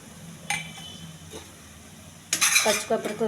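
A spoon scrapes and clinks through mushroom and green pea curry with freshly grated coconut in a pot, with a short knock early on and a busier burst of stirring and clatter near the end, close by.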